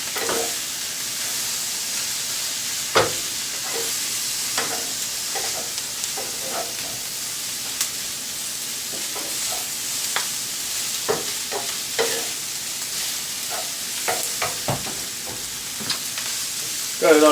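Pineapple fried rice with chicken and vegetables sizzles over medium heat in a pan, a bright steady hiss of frying with repeated spatula scrapes and taps as it is turned and mixed.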